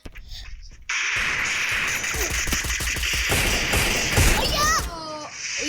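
Rapid gunfire in the Free Fire Max mobile battle game crackles in dense bursts, loud and close, with thuds and sharp electronic tones among the shots.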